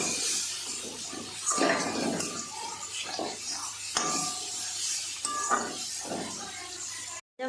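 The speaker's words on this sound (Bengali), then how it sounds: "মশলাগুলোর উপরে একটু পরিমাণ মতো জল দিয়ে দেব।" Water splashes and sloshes into a pan of frying salt, turmeric and chili powder for a Bengali-style dried fish dish, in repeated pours with clinks of utensils, while a person talks throughout.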